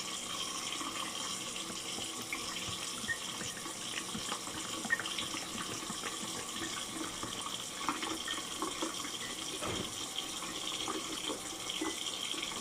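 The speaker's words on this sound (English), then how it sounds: "Still gonna give it a rinse." Running water from a kitchen tap pours steadily over a wooden spoon being rinsed, a constant close splashing rush with faint knocks of handling and no talk.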